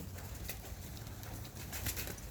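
Young pigeons in a loft give soft, low cooing and rustling, hungry and restless after a missed feeding, with scattered wing flutters over steady background noise.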